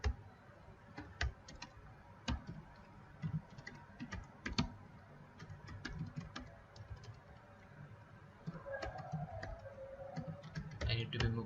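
A computer keyboard clicks through irregular bursts of keystrokes while JCL is typed, close and fairly quiet, with brief pauses and denser typing toward the end.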